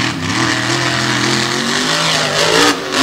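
A big white Ram truck's engine roars and revs hard during an all-star truck race, loud and close, with a rising and falling pitch that swells near the end and then drops off.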